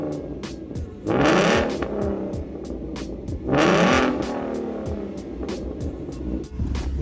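A Camaro SS V8 engine idles with a lumpy burble, exhaust cold, then revs hard twice, each sharp exhaust roar rising and falling back to idle.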